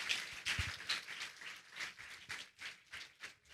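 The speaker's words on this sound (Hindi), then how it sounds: "क्यों ना हम ताली बजाकर उनका इस वेदी पर स्वागत करने पाएं" A church congregation at a Sunday worship service claps to welcome a preacher to the altar, soft scattered applause in uneven bursts, fairly quiet and without talking.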